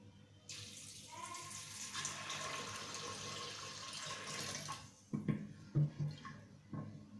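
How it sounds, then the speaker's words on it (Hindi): Water pours steadily into a pot of soaked black chickpeas (kala chana) for boiling, a continuous rushing splash for several seconds, then a few clunks and knocks of the pot and utensils toward the end. "और अब मैं इसमें पानी डाल देती हूँ।"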